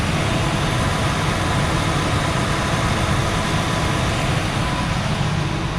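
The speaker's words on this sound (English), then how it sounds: "the 6-cylinder gas engine" A 2003 Ford E250 contractor cargo van with a 4.2 liter straight six gas engine idling, a steady dense rumble with broad hiss that holds even and unbroken throughout.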